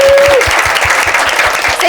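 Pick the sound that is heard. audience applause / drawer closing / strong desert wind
audience applause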